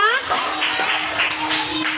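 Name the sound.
children clapping in class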